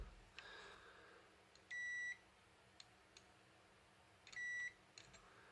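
Multimeter continuity tester beeping while diodes are probed on a Samsung TV power board, two short steady electronic beeps a couple of seconds apart over faint clicks of the probes, with no talking.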